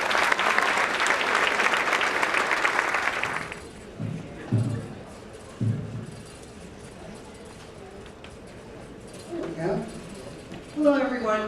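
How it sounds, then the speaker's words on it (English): An audience at a high school senior awards night claps steadily for a few seconds, then the applause stops and a few footsteps and a voice follow in the quieter hall. "So just give them a regular applause."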